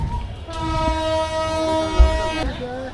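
A Bangladesh Railway train sounds its horn in one sustained, harmonically rich blast of about two seconds, close and loud over rumbling rail noise, with voices in the background.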